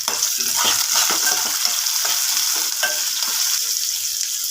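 Whole spices (black pepper, cinnamon, cloves, fennel, mace, cardamom) with garlic and curry leaves fry in a pan for chicken gravy, giving a steady, close, dense sizzle with repeated scraping stirs throughout and no talk.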